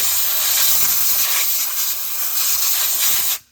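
Compressed air hisses steadily from a nozzle, blowing oil away from the injectors of a Mack truck engine, a loud, continuous close spray that cuts off abruptly at the end.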